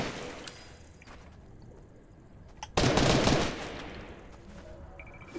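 A burst of rapid automatic gunfire in the Fortnite video game, loud and close, rattles for about a second against a quieter game backdrop with faint tones.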